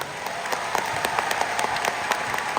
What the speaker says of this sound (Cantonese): 大力掌聲唔該